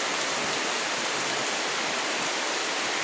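Steady rain pours down in a dense, continuous hiss, loud and close throughout with no break and no voices.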